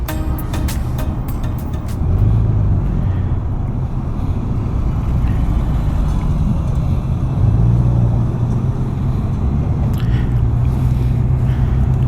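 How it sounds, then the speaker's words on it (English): Afternoon rush hour road traffic makes a constant low rumble of engines and tyres, with heavier vehicles swelling past several times and a few sharp clicks and knocks near the start. "afternoon rush hour traffic"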